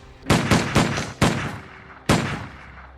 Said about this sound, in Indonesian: Dan karena itu dia langsung menembaknya.